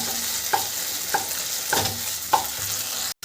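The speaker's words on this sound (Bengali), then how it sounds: "এটাকে একটু হালকা করে এখন নেড়ে নেবো।" Spice masala frying in oil for a dab chicken dish is stirred with a few distinct scraping strokes over a steady close sizzle, no voices, ending abruptly.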